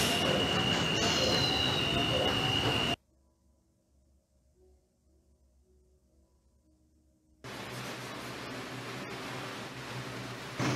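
An R142 subway train on the 2 line runs in the Hmmsim 2 train simulator game, giving a loud, steady rumble with wheel noise and a high whine. The rumble cuts out into near silence for a few seconds, then returns just as loud.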